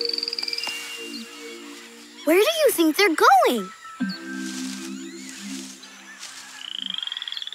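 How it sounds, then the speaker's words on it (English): Poison dart frogs croak in a rainforest with repeated buzzy calls, while a voice speaks briefly over them in the middle. "There's tons of poison dart frogs!"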